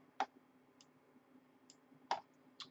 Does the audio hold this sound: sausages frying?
no